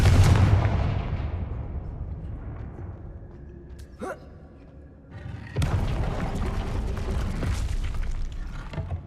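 In the video game Hogwarts Legacy, Confringo fire-blasting spells go off as two heavy booming explosions. Each boom rumbles and fades, with a quieter stretch between them.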